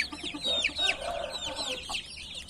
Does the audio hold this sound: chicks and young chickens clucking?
yes